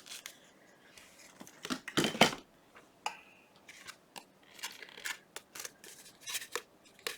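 Scissors snipping Tim Holtz end paper for ephemera crafting, a run of small crisp cuts and paper rustles close by, with one denser crunching snip early on, no talking.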